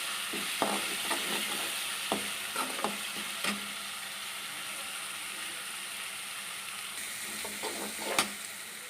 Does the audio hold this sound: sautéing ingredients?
yes